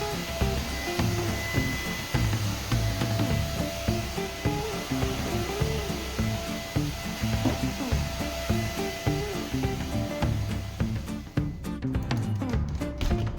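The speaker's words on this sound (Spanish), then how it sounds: "paso la aspiradora" A vacuum cleaner runs continuously while a bedroom is cleaned, a loud steady drone with shifting rubbing and scraping as the head moves, ending in a burst of clattering.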